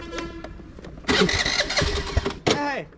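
A scooter's engine cranks briefly and fails to catch, then catches after a second try and runs with an uneven mid-pitched idle, close by, with a person speaking faintly in between.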